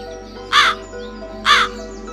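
Two loud crow caws in a cartoon, evenly spaced about a second apart, each a short harsh call over a steady soft background hum.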